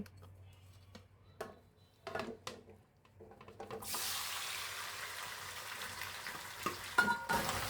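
Chicken coated in spice paste hits hot oil in a pot for biryani, setting off a sudden loud, steady sizzle after a few seconds of clinks and scraping from the cookware.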